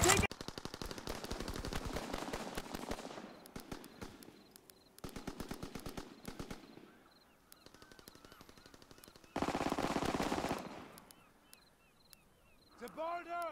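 Heavy anti-aircraft flak gun firing in Call of Duty WW2, heard as several long sustained bursts of rapid booming fire separated by pauses, with battlefield noise and soldiers shouting in between.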